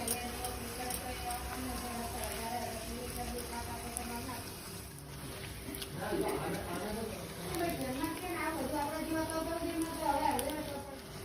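Bhature fry in hot oil in a kadai and turn over, giving a faint, steady bubbling sizzle beneath a person talking through most of it.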